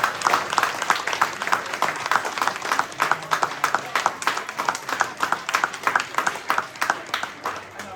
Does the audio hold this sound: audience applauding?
yes